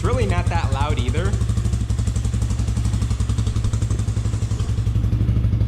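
A motorcycle with a stock exhaust idles with a rapid, lumpy putter close by, steady throughout, while a person talks briefly over it at the start.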